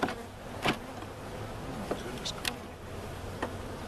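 Honey bees buzz around an opened backyard hive in cold weather, a steady low hum with occasional sharp clicks and knocks. Quiet voices of beekeepers can be heard nearby.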